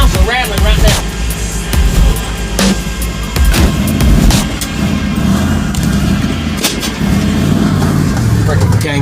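A loud Mustang convertible drives past on a residential street, a steady engine roar with broadband rumble filling the whole stretch and a few sharp bangs mixed in.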